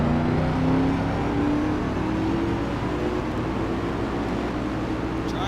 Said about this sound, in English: the engines have been fired, and we are about ready to get underway in the Old Dominion 500